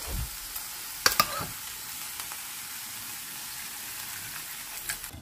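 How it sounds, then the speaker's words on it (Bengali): Tomato stir-frying in a pan with salt, turmeric and cumin, a steady low sizzle broken by a couple of sharp scraping stirs near the start and again toward the end. "নুন, হলুদ আর সামান্য জিরে দিয়েছি। আমি ভালো করে আরেকবার কষিয়ে নিচ্ছি।"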